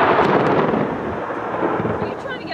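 Thunder from a nearby lightning strike during a July 4th storm, a loud sustained rumble with crackling texture that rolls on for a couple of seconds and slowly eases.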